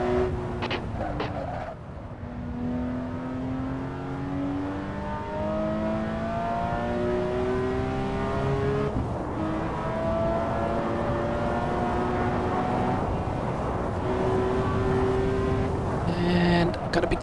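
A race car engine in a sim racing video game, played with a Fanatec Clubsport Shifter SQ V1.5, revs up through the gears with rising whines and quick shift dips, continuous and loud, under occasional talk.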